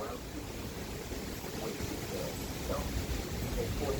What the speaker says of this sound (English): I'm sure these are actual 60 miles an hour wind gusts.